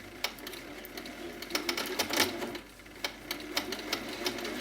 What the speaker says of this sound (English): Just going to stitch a few small stitches there to secure everything.